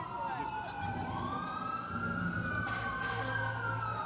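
A loud siren wails in a rising and falling sweep, close by, with traffic rumble underneath, during a labor rally protesting immigration raids in California.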